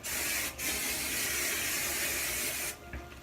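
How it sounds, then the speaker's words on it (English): Hairspray hissing onto hair being styled in an 1880s Victorian fashion: a short close burst, a brief pause, then one long steady loud spray before it cuts off. "so then you're going to just really spray it"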